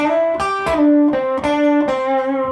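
Electric guitar plays a short blues lick alone: a few sustained, slightly distorted bent notes with sharp picked attacks, close and clear.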